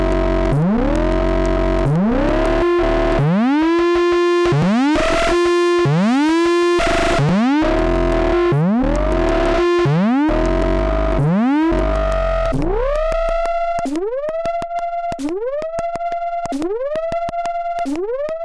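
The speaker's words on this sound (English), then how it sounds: "this low pass in the feedback can really shape these distortions, man. Listen to that." A loud, buzzy synthesizer tone from the iOS app Lines, with a low-pass filter in the distortion feedback, repeats in rising, distorted sweeps, its harsh grit later thinning into cleaner, brighter pitched blips.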